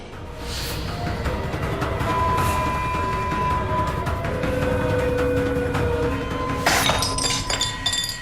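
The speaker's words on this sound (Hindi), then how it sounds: "क्या हुआ मिंटी, ये कप कैसे टूट गया?" A sharp crash of breaking crockery with scattered clinking shards, followed by a second brittle shatter near the end, over a steady background hum.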